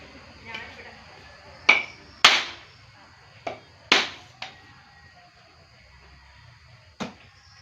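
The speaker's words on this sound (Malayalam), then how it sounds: "ഈ തേങ്ങ പൊട്ടിച്ചേക്കാം" A coconut is cracked open with about six sharp, hard knocks spaced irregularly, each a crisp close impact, over low background noise.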